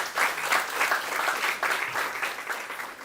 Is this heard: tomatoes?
no